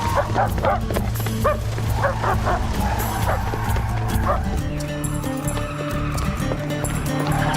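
A dog barks and yips repeatedly, loud and close, while people talk over it.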